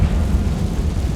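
A Confringo fire spell blast in Hogwarts Legacy, a deep rumbling explosion that fills the whole moment with sustained low, heavy roar and no talking.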